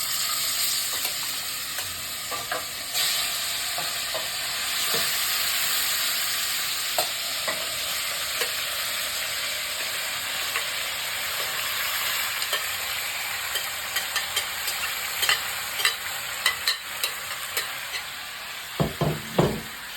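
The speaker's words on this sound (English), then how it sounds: "Now our oil is hot. Gonna start adding the steak to the pan." Steak browning in hot oil in a pan gives a bright, continuous sizzle and spatter, with scattered utensil scrapes and clicks growing more frequent toward the end as the meat is moved around.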